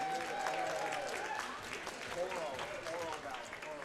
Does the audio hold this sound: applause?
yes